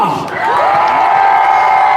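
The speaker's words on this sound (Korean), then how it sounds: "다시 한번 큰 박수 여러분" A crowd at a political rally in Korea cheers and whoops loudly and close, a dense roar of voices that swells after a short dip and holds to the end.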